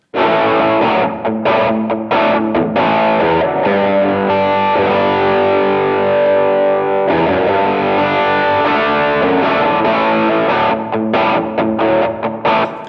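Loud, continuous distorted electric guitar on its humbucker setting through a DS Custom Range T treble booster, with a thick, bright overdriven tone, strummed chords ringing out alone for the whole stretch.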